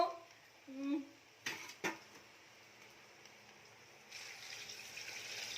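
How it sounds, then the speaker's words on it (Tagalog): Water pours steadily into a cooking pot, a soft, continuous gush that holds through the last part of the clip, after a couple of sharp metallic clanks from the pot and a brief vocal sound near the start. "Lagay mo yung tubig."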